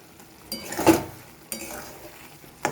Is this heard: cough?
no